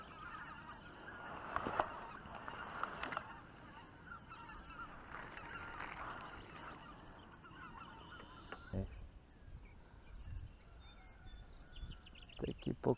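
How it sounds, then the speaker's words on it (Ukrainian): Skeins of geese flying north over marshland near a fishing spot, their honking calls faint and distant in a repeated chorus against outdoor background noise. "Ого, багато ключів гусей. На північ на болотах полетіли."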